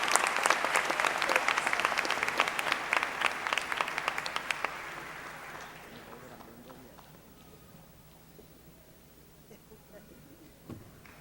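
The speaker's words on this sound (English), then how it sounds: "Let's give a big round of applause." A college commencement audience applauds in a dense burst that fades over several seconds, trailing into quiet room sound with a few scattered claps.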